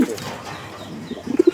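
A male pigeon on a farm coos in low, soft, throaty calls, faint at first and then several clear close coos toward the end.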